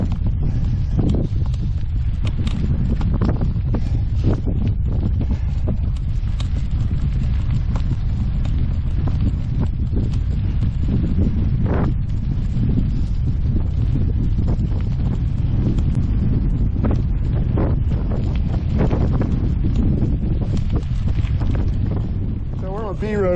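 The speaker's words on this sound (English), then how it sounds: "It's really getting windy now." Strong wind buffeting a microphone outdoors on a rural back road, a continuous loud low roar with gusty rumble throughout and occasional faint knocks, no talk over it.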